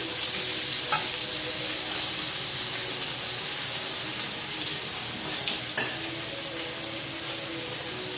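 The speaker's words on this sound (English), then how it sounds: "Now I can turn my daughter's steak." Steak sizzles steadily in a frying pan as it is turned, a dense continuous hiss with a faint scrape or two and no talking.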